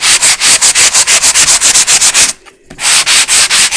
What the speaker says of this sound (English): sand this off